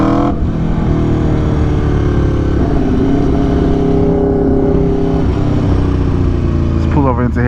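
A 2022 Aprilia RSV4 1100 Factory sportbike is ridden hard, heard from the saddle. Its engine gives a loud, continuous droning roar mixed with heavy wind rush, and the pitch shifts slightly as it pulls.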